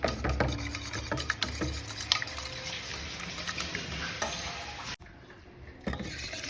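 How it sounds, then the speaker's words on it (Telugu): Apple cake batter whisked briskly in a bowl: a close, steady rush of rapid scraping strokes that breaks off sharply near the end, then resumes faintly. "ఇలా విస్క్ చేస్తూ ఉంటే ఇలా"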